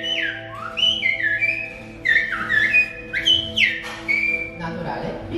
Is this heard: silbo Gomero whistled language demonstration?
yes